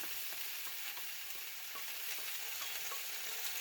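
Three chopped potatoes for a Spanish tortilla fry in hot oil in a pan, making a steady, close, dense sizzle and crackle with no talking.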